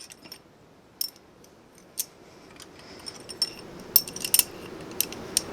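Steel valve lifters from a Mitsubishi S3L2 diesel engine in a Cub Cadet 7265 tractor clink as they are mixed together, a dozen or so sharp, scattered metallic taps at close range with quiet gaps between.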